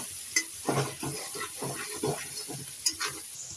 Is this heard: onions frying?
yes